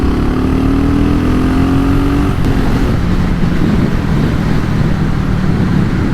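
A 2022 BSA Gold Star single-cylinder motorcycle on a test ride, its engine loud and close, revving up then dropping into a steady rough drone under heavy wind rush.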